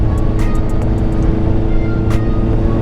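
A car fitted with an eBay aftermarket exhaust drives on the road, a steady loud droning rumble with road noise and a few faint clicks, recorded from inside the cabin with no talk.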